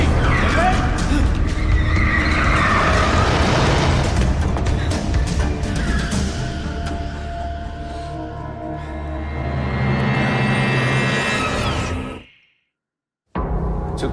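A car speeds off with its tires skidding and squealing. It is loud and sustained, a rising squeal mixed with engine roar, then stops abruptly for a moment before the noise resumes.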